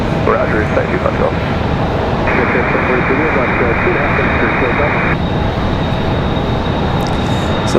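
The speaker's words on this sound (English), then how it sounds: "So that's American 174 Heavy. And that 777-200 headed back to London Heathrow" An American Airlines Boeing 777-200 jet airliner, flight 174 Heavy, rumbles steadily and loudly at Raleigh Durham International, the engine drone running unbroken while people talk over it.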